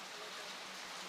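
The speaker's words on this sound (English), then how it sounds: "You see the rain very, very steady now" Steady rain pours down over an outdoor football match, a dense even hiss with no breaks, faint and distant under the stadium ambience.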